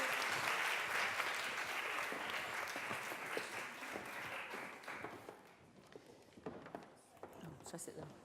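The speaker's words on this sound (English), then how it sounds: "give a massive round of applause and a big muddy whoop to our fantastic authors" An audience at an evening book event applauds and whoops for the authors; dense clapping with cheers at first, thinning after five seconds into scattered claps and murmuring voices.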